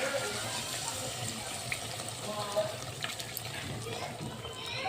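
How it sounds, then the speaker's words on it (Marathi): A steady stream of water runs and splashes into a pot of chicken korma, moderately quiet, with faint voices in the background. "आता आपल्याला लागतं तेवढं पाणी सोडायचं आहे"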